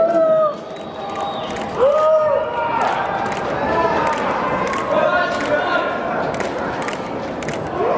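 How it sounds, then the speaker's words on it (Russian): Sports-event audience cheering, shouting and clapping loudly for several seconds, a dense continuous roar with scattered whoops and rhythmic claps throughout. "Самые громкие аплодисменты, которые сами по себе"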